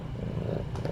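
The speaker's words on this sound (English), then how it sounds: "She's purring so loud" A cat purrs loudly and close up, a low rumbling vibration filling the short moment with faint scratching near the end.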